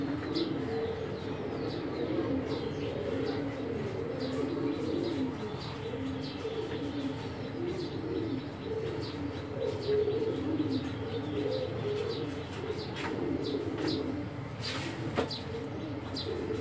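Pigeons coo in a steady, low, overlapping murmur throughout at a loft where a young female pigeon with canker is kept, with occasional brief chirps and wing flutters, no talking.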